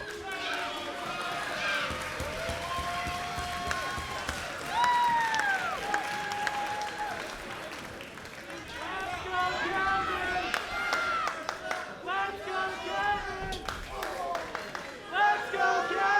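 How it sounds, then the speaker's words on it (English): Arena crowd at an MLP Mayhem wrestling tag match, Kevin Knight and KUSHIDA versus Taven and Bennett, roaring and chanting in steady rhythmic bursts throughout, loud and continuous with commentators talking over it. "crowd trying to rally behind Kevin Knight with chants of "Let's go, Kevin.""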